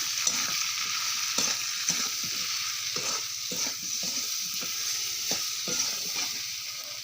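Food seasoned with salt and sugar is stir-fried in a pan, giving a steady sizzle under repeated scraping strokes of a spatula at a regular rhythm, close and fairly loud, with no voices.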